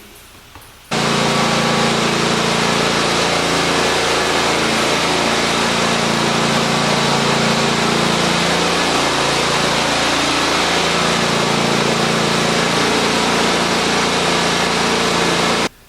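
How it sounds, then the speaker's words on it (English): A lawn mower tractor engine starts up abruptly and runs steadily at a loud, constant idle-to-mid pitch drone with a faint wavering, close by and with no talking, until it cuts off at the end. "got a mower, got a tractor now"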